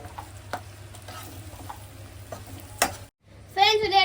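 Chopped onions fry in a home kitchen pan, a steady close sizzle with scattered stirring clicks and scrapes, broken by a brief silence before a louder burst of sizzling with a high whine.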